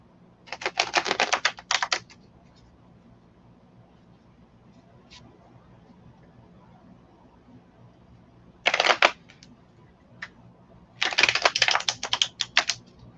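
A deck of cards is shuffled for a psychic reading, three brisk riffling bursts spaced apart with quiet pauses between them, close and crisp against a faint low hum.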